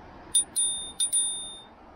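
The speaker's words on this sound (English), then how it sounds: "you got an integrated bell." An integrated bell on a Himiway Cruiser fat tire e-bike rings four bright, close dings in two quick pairs, each chime ringing on briefly before fading.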